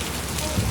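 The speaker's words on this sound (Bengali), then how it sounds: "বিশাল জোরে হচ্ছে বৃষ্টি।" Heavy rain pours down steadily, a dense continuous hiss close by, with a faint voice near the end.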